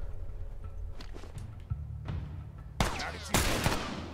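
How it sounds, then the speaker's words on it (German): Gunfire in the video game The Last of Us Remastered: a few muffled distant shots and thuds, then two louder, sharper bursts near the end, with footstep-like movement in between. "Da oben hat jemand geschossen."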